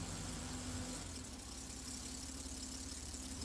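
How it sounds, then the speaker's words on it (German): A BMW or Mercedes car engine with K-Jetronic fuel injection idles steadily after being restarted, a constant low hum and whir with no talking. "Nach dem Wiedereinbau schließen wir die Schläuche wieder an und starten den Motor."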